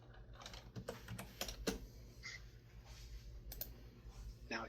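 Fingers tapping out keystrokes on a computer keyboard in short irregular bursts of light clicks, quiet and close, over a low steady hum with faint voices in the background.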